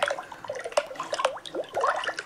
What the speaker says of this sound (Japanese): すごくない？水の音だよ。